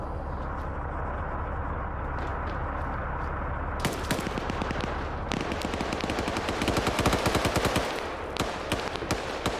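Heavy gunfire crackles through a military video game battle at a Ukrainian airfield: fast automatic bursts and sharp single shots, some close and some distant, over a constant low engine rumble. No voices are heard.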